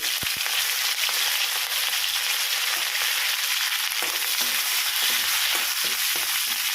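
Peanuts fry in a pan with a steady, dense sizzle that holds through the whole stretch, broken now and then by soft stirring knocks and no voices.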